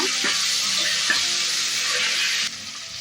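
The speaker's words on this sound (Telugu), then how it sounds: "ఇప్పుడు అల్లం పేస్ట్ వేసుకుంటున్నా రెండు స్పూన్లు అల్లం పేస్టు మీరు కూడా ఇందులో బాగా మిక్స్ అయ్యేలాగా ఫ్రై చేసుకుందాము" Ginger paste frying with green chillies and onions for bagara rice, a steady loud sizzle with a few scraping stirs near the start, easing slightly toward the end.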